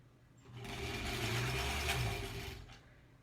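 A sewing machine runs steadily for about two seconds as it stitches the edge of a granny square quilt, with a close, continuous motor whir and a fast rhythmic needle clatter that starts and stops cleanly.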